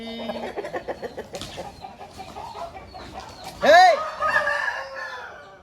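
An Aseel rooster on a farm in Nellore, Andhra Pradesh, about 23 inches tall and 4 to 4.5 kilograms, crows once loudly and close by after a stretch of clucking and other fowl sounds.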